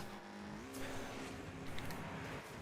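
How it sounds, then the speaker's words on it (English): A loud car passes outside a flat at night, its engine note rising and then holding steady as it goes by. "That's an oddly loud car at this time of night outside my flat."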